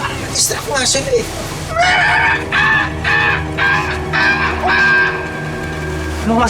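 A bird, kind not identified, calls in a series of loud, repeated honking cries, several in a row, mixed with a voice and background noise.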